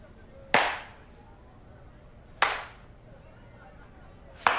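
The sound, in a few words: slow clap in a TV episode excerpt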